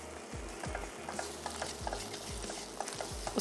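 Flour-thickened pasta sauce cooks over low heat in a pav bhaji pasta dish, with a soft continuous sizzle broken by regular scraping stir strokes about every half second.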